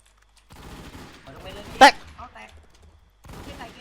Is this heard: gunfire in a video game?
yes